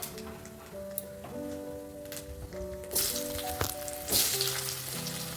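Potatoes dropped into hot oil tempered with black cumin for a fish curry, a quiet crackle that turns into a louder, steady sizzle partway through, with no voices.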